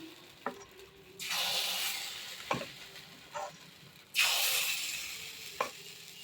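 Spoonfuls of pitha batter drop into a pan over medium heat, five cakes at a time, for temple offering cooking. Each pour sets off a sharp sizzling burst that fades to a quiet background hiss, with faint taps of the spoon between pours.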